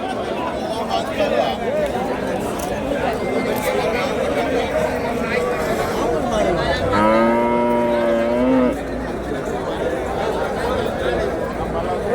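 At a crowded cattle market in Vaniyambadi, Tirupattur, a Jersey cow gives one drawn-out moo partway through, rising above a constant hubbub of people talking and milling around.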